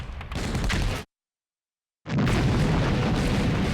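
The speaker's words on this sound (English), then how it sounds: "another infiltrator activates a grenade and drops it at Sergeant Harrell's feet" A grenade explodes in wartime combat, a loud boom with rumbling noise cut by a second of silence, then another heavy blast sustaining its roar.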